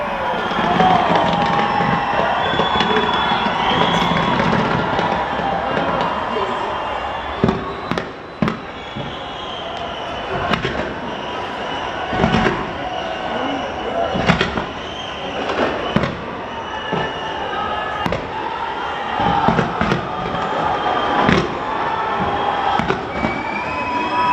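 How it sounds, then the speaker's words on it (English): New Year's fireworks launched from Auckland's Sky Tower crackle and boom over a loud, cheering crowd, the bursts repeating irregularly through a steady wash of distant noise. "fireworks there being launched from Auckland's Sky Tower"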